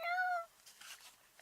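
A person imitates a cat with a single short, high meow that trails off after about half a second, followed by faint room noise.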